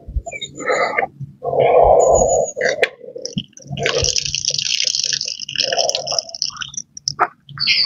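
Water poured over a Skysper Tengger 20 backpack in a waterproofing test, running and splashing off the fabric in bursts with dripping and gurgling, close and fairly loud over nearly eight seconds.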